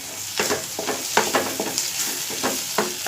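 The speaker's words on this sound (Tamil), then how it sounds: "நல்லா அதை ஹை ஃப்ளேமில் வச்சுக்கிட்டு நல்லா வதக்கி விடுவோம்" Shredded chicken stir-fries over a high flame for chicken rolls, a strong continuous sizzle punctuated by rhythmic spatula scrapes against the pan, close up with no talking.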